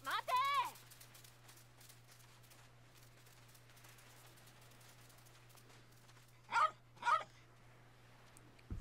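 In the video game Yakuza 3, a dog lets out a yelping bark, then two more short barks a few seconds later, quiet against a low steady hum and faint background noise.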